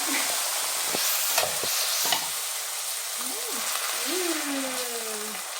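Boiled peas and their cooking water are added to a hot frying pan, sizzling steadily and loudly, with a few clinks and scrapes of stirring over the frying hiss; no one speaks.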